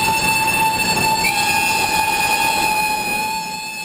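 Model steam train at a Märklin model railway show passing continuously, a steady loud mechanical rush with sustained high whistle-like tones, fading slightly at the end; no voices.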